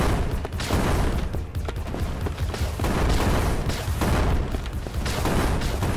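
Defensive turrets open fire in the video game Crystal Defense, producing a sustained, loud volley of overlapping booms and gunshot bursts that rolls on steadily for several seconds.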